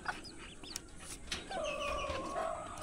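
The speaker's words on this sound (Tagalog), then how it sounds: "ito yung ating mga alagang itik" Domestic ducks calling in their pen on a small farm, a few quacks and honks close by early, then a sustained louder squawking call over a busy background of other birds.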